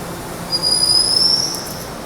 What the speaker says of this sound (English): One of these annoying new trains.